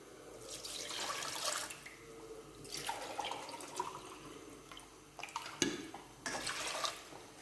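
Water splashes and streams in uneven bursts into a pan for sugar syrup, with a few sharp clinks and pauses between pours, heard close by without talk.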